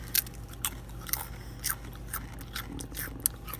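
Crunchy Doritos tortilla chips eaten close up in a cramped closet: a rhythmic series of sharp bites and crisp crunches, roughly one every half second, loud and near with no talk.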